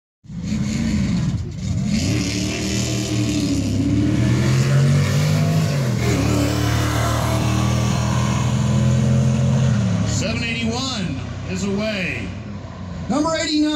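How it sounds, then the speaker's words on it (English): A VW sport hatch race car idles and revs at the start line of the Mount Washington hillclimb practice day, a loud, steady engine drone that swells and dips in pitch, with a commentator talking over it. "Another VW. Sport hatch coming to the line."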